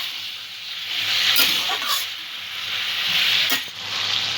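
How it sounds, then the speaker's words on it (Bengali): Spices and ginger paste sautéing with bottle gourd in a pan, a steady close hiss and sizzle with several scraping stirs cutting through. "এক চা চামচ আদা বাটা, মশলাগুলো একটু ভালো করে লাউ দিয়ে কষিয়ে"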